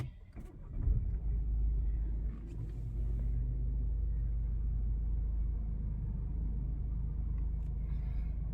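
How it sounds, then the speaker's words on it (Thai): A BMW X4 20d M Sport diesel fires up at the push of the start button, a brief crank settling into a low, steady idle rumble heard close by for several seconds. "ผมเหยียบเบรกแล้วกดสตาร์ทเลย"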